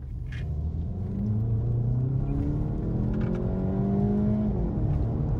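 A car accelerating hard in sport mode, its engine a loud, steady rumble that climbs in pitch through the gear, drops briefly at a shift and then rises again.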